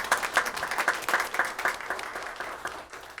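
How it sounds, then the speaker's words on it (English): A round of applause at a public meeting: a few seconds of moderately loud, dense clapping from the attendees that gradually thins and fades toward the end. "Can we give her a round of applause?"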